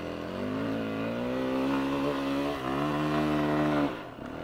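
An enduro motorcycle in first gear climbs a hill, its engine droning loud and steady with rising and falling pitch as it revs near the limiter, then cutting off abruptly near the end.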